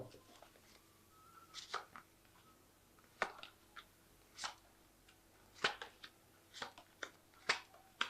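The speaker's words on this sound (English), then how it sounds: "So I'm just going to draw some cards from this deck." Tarot cards drawn from a deck: a series of crisp, close snaps and soft flicks of card stock, spaced irregularly about once a second against a quiet room hum.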